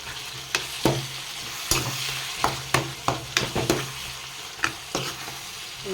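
Spoon stirring chopped brinjal and tomatoes in a hot pan, with a steady sizzle underneath and a series of sharp scraping knocks against the pan, close and clear.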